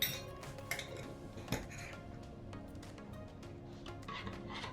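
Couscous spices being stirred in a dish, a spoon clinking and scraping against the dish in scattered close taps, quiet and unaccompanied by speech.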